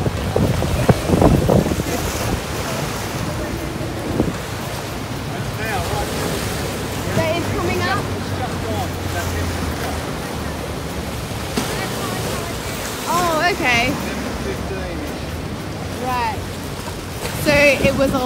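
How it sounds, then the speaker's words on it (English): Ocean waves surge and wash ashore at high tide, heard with heavy wind buffeting the microphone and people talking nearby over the steady roar of surf. "As you can see, the waves that are like crashing."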